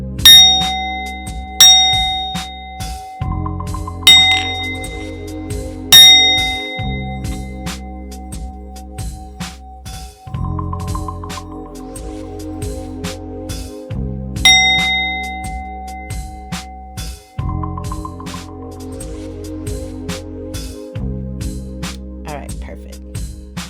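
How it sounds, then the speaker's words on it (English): A bell rung to clear energy strikes repeatedly, each loud clang ringing out and decaying before the next, in regular groups, while a person talks over and between the strikes. "I'm going to go ahead and ring this bell here. It's going to be a little loud"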